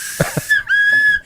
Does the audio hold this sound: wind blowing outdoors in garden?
no